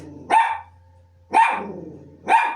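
A dog barks three times in a slow, evenly spaced rhythm, each bark loud and close with a short tail, and a low hum between them.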